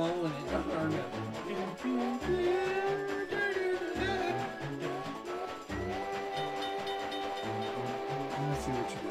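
A train horn blown in the video game The Legend of Zelda: Spirit Tracks, a sustained whistle-like tone wavering in pitch over game music and steady rhythmic rumble.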